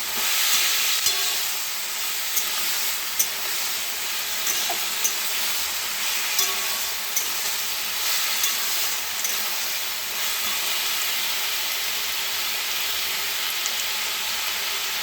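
Ingredients are sautéed in a pan with a constant close sizzle and hiss, while a spatula gives regular light taps and scrapes as they are stirred. No one speaks.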